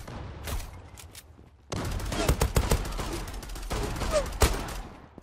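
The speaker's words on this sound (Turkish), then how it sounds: "taramalı tüfek gibi tabanca" Pistol in the Zula online shooter firing so fast it sounds like an automatic rifle: a dense, loud fusillade of rapid gunshots with sharp peaks, after a brief quieter lead-in.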